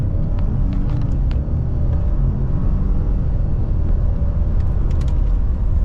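A lifted 2021-2024 Ford F-150 with the 3.5-liter EcoBoost engine accelerating hard from 0 to 60, heard from inside as a loud, steady low engine rumble and road roar with no talking.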